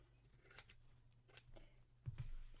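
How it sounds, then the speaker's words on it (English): Scissors snip the corners off a piece of fabric for an Italian quilted stitched picture, giving a few quiet, close cuts: a pair near the start, one in the middle and a firmer double snip toward the end. "Now here, I'm just going to cut the corners in slightly."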